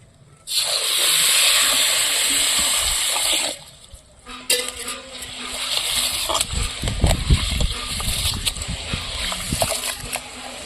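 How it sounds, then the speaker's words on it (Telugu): Water is poured into a bowl of soaked sorghum, with a steady rushing stream for about three seconds, followed by uneven splashing and sloshing as the grain is stirred by hand nearby. "ఇప్పుడైతే నీళ్ళు పోసుకుందాం"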